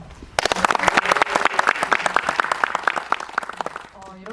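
Dense applause from a cinema audience at a film premiere stage greeting, many hands clapping fast and loud, then fading near the end as a voice starts.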